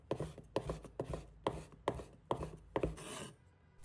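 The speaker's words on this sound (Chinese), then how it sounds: "把香菇切成均匀薄片， 再把鱿鱼切成细条，每一刀下去都散发着浓郁鲜香。" A kitchen knife chops shiitake mushrooms and squid into strips on a wooden board, giving a series of sharp, evenly spaced cuts that land close and clear, with no talking.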